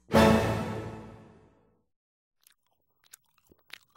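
A big crunchy bite lands with a loud burst that fades over a second or so, followed by faint scattered chewing clicks.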